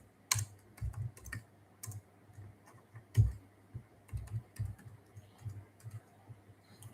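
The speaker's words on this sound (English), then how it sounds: "I will type hypertension." Typing on a computer keyboard while using medical coding software, a quiet, irregular patter of key clicks with a few firmer taps, close and alone.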